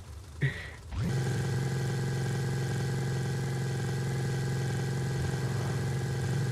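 A modified car engine idles with a choppy, lumpy rumble in Forza Horizon 5, steady and close, after a brief clatter at the start.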